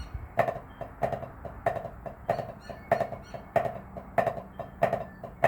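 A snare drum plays the cheese rudiment, sharp accented flam hits arriving in an even rhythm about twice a second, close and alone.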